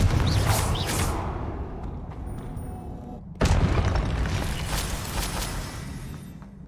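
Confringo blasting spell explosions in Hogwarts Legacy: a deep booming blast opens the clip and a second sharp burst erupts midway, each followed by a rumbling, roaring tail.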